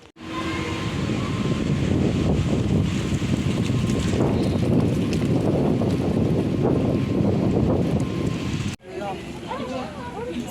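Wind blows outdoors on a cloudy day, a loud continuous rush buffeting the microphone for most of the stretch while a person speaks over it, then easing as other voices come through.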